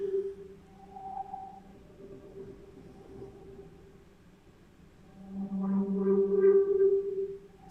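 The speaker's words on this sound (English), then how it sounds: "So I got this really odd sound from the Hydra Sense." An odd, Blade Runner-style tone from a Hydra Sense modular synth module, faint sliding, whale-like drones and sonar-ish pitches that drift and swell louder toward the end, with no voices.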